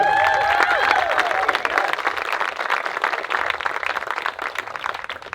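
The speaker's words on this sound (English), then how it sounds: "Let's give them a round of applause" Wedding guests break into loud, sustained applause for the newly married couple, Michael and Brianna, with a crowd of hands clapping together and a few cheers and whistles at the start.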